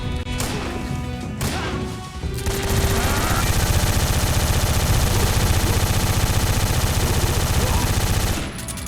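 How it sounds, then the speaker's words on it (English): Machine gun fire rattles in Metal Gear Solid 3, a few scattered shots opening before a loud, sustained automatic burst runs for several seconds and then stops. "you're just out here fucking machine gunning them down"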